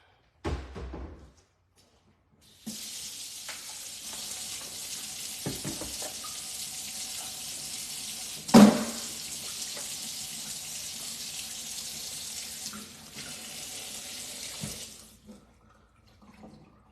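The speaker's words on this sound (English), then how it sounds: "let me wash the sink down" Kitchen tap water running steadily into a sink during washing, a continuous broadband rush that starts after a brief pause, with a sharp clatter midway and stopping near the end; no talking.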